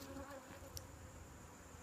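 Honey bees around an open hive hum in a soft, steady buzz, faint and continuous from start to end, with one brief brighter buzz passing close midway.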